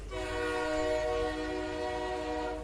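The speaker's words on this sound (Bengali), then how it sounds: "তাদের দুজনের চমক ভাঙে ট্রেনের শব্দে।" A train arrives with its horn blaring in one long, steady chord, loud and close and holding for the whole stretch over a low rumble, with no voices.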